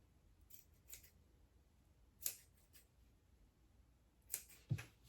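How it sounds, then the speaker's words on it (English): Scissors snipping a small cut in fabric for a 3D butterfly face mask, a few quiet, close, crisp snips spaced across a near-silent background with no talk. "So at this point, I just did a little cut."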